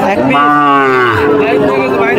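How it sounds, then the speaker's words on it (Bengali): A Sahiwal cow at a cattle market lets out a single loud, close moo lasting about a second, followed by fainter market noise. "সাইওয়াল জাতের গরু।"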